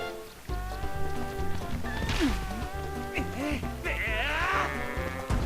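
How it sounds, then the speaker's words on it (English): A goat bleats in The Legend of Zelda: Twilight Princess during a ranch event in which a goat escapes, with repeated wavering bleats over steady rhythmic game music. "it will trigger an event where one of the goats from the ranch will escape"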